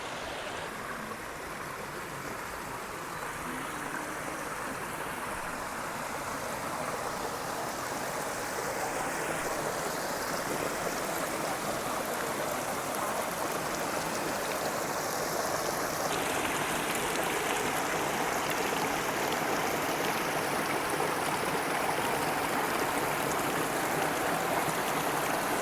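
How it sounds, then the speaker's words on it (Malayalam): Water flows and pours steadily from a feature in a Japanese garden at Cowra, making a continuous close splashing rush with no voices. "അതിനകത്തേക്ക് വെള്ളം വന്ന് നിറഞ്ഞു കഴിഞ്ഞ് കഴിയുമ്പോൾ തന്നെ അത് താഴേക്ക് പോയിട്ട് വെള്ളം ഒഴിക്കും."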